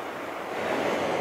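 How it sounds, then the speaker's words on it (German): A small stream of water flows beside a forest path leading up to the Falkenstein castle ruin in the Allgäu, giving a steady, even rush of water with no voices. "Dort ist so ein kleiner Wasserlauf schon."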